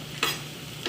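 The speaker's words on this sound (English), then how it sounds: "I'm gonna toss our mushrooms in and let them saute up as well" Mushrooms sautéing in olive oil give a soft, steady sizzle broken by two brief scraping stirs, close by with no talking.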